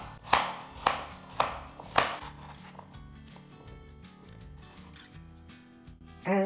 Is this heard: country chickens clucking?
no